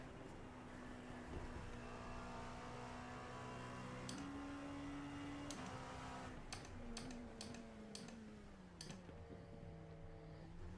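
Dallara P217 LMP2 race car engine at Spa in the iRacing game, a steady high engine drone with gear shifts stepping the pitch, accompanied by loud clicking keyboard taps.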